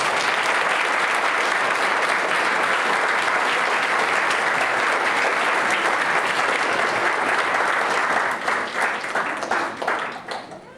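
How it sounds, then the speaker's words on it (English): A large audience at a 2019 BHCC adult education program celebration applauds the graduates in a long, loud, dense wave of clapping that thins out into scattered individual claps near the end. "Let's give a round of applause to all the graduates."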